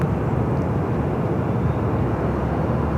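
An EVA Air Boeing 777 arriving at Los Angeles airport from Taipei makes a loud, steady, broad jet roar that holds evenly throughout, with no voices.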